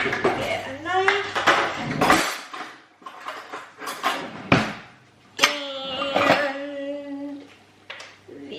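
Cutlery and dishes clatter and clink in a home kitchen while someone fetches a knife, with sharp metallic knocks and scrapes mixed among spoken voices.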